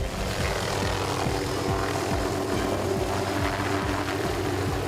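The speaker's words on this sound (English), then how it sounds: "The helicopter lands, the lifeguards get onto the side of the skids," A lifeguard rescue helicopter lifts off during a rip current search, its rotor chopping in a fast, steady rhythm over a loud, continuous engine drone close by. No voices are heard.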